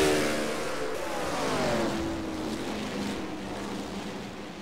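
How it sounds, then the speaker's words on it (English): A race car engine running rough, slightly down on one cylinder, drones steadily and continuously, its tone slightly uneven and wavering, with no voices over it. "just listening to that car, it sounds like it's down a cylinder just a little bit"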